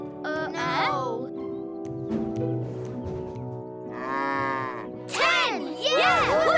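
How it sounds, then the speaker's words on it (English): Cartoon cows in a children's animated Thomas & Friends episode moo in several drawn-out, wavering calls over a steady musical background, loud and close, with a voice briefly heard between them. "Cows, come on down."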